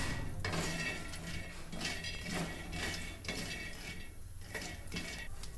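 Peanuts being dry-roasted in a pan for chutney powder, with repeated metallic scraping and clinking of a spatula against the pan in a steady stirring rhythm, close and clear.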